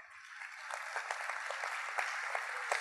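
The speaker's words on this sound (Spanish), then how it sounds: "Así que fuerte el aplauso," An audience applauds at a corporate social responsibility award ceremony, a fairly faint, even wash of many hands clapping that holds steady from start to finish.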